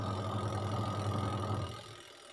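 An AQUA twin-tub washing machine's wash tub runs with a steady low motor hum and churning drone, fairly loud and close, then drops off abruptly near the end.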